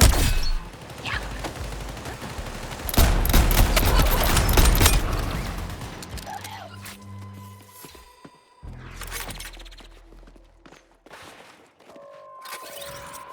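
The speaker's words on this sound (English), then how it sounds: "Providing support fire." Heavy gunfire in the video game Suicide Squad: Kill the Justice League, loud sustained bursts of rapid shots with shattering impacts, then thinning into scattered shots and game effects.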